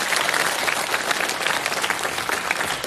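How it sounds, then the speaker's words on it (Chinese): Audience applause for two singers at a televised music show, a steady, dense burst of clapping filling the whole moment without a break. "掌声送给两位"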